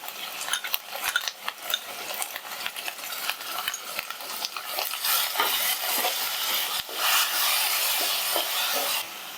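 Spice masala mixed with yogurt fried in a pan for hilsa fish biryani, with irregular scraping and stirring strokes over a soft continuous sizzle, close and moderately quiet, no speech.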